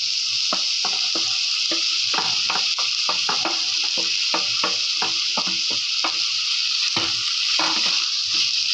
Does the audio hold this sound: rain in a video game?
no